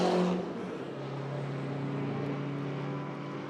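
A pair of BMW F80 M3 turbo race cars roar past at a race meeting, a loud, sustained engine drone that swells at the start and holds steady throughout.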